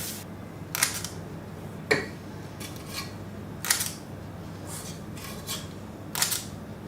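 A 1-inch scoop scrapes through browned butter cardamom snickerdoodle dough in a bowl, giving about six short, crisp scraping strokes at an irregular pace, close and fairly quiet, with no talking.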